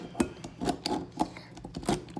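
A hand-cranked rotary whisk with slightly sticky gears clicks and rattles against a bowl in a home kitchen, a quick uneven series of close metallic ticks.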